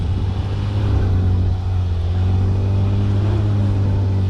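Toyota 4Runner fitted with bald tractor tires climbs a hill, its engine rumbling and revving loudly and steadily close by as the wheels slip, with no talk.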